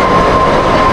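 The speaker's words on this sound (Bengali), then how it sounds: "জয় হিন্দ মেট্রো স্টেশন থেকে ট্রেন ধরছি" Kolkata metro train at Jai Hind, a deep underground station, producing a loud, close, continuous roar and rumble with a faint steady whine, filling a brief moment without any voices.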